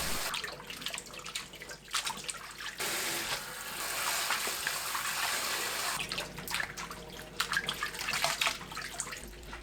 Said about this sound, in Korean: 찬물에 두세 번 헹궈주세요